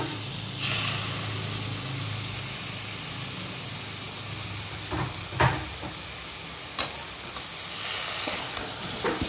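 Yogurt added to spice masala frying in a pan for vegetarian biryani made without onion or garlic, a steady broadband sizzle with a few brief stirring clatters and pops, close and moderately loud, no talk.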